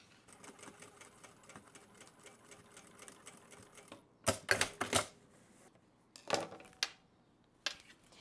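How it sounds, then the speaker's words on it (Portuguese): A sewing machine topstitches a bag lining seam, first with a light steady mechanical patter, then loud rapid bursts of stitching separated by short pauses; no speech. "vou desvirar o meu forro e vou rebater a minha costura aqui"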